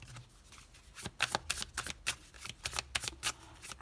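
Tarot cards for an astrological reading are shuffled up close: a brief quiet lead-in, then a quick burst of sharp, rapid riffling snaps for about three seconds, with no talking.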